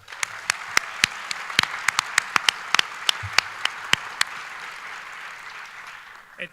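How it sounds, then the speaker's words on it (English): Audience applause at a business excellence awards event: a steady, moderately loud wash of clapping from a crowd, with sharp individual claps standing out throughout and no speech. "So everybody, a round of applause for John."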